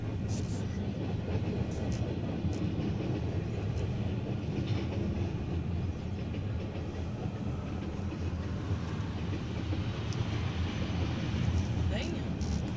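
A CSX freight train rolls through Saint Elmo, Illinois as a steady, continuous rumble of rail cars, with faint clicking over the tracks and brief higher squeals, sustained at even loudness throughout.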